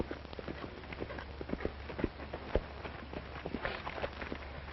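A racehorse gallops along a track, rapid irregular hoofbeats thudding on the dirt at a middle distance, with a thin, hissy old-film background.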